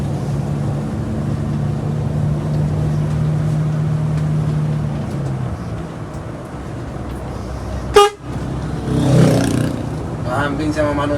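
A single short horn toot cuts through steady engine and road rumble on a sleeper bus trip from Surabaya to Bima, Indonesia, with voices and traffic noise continuing around it.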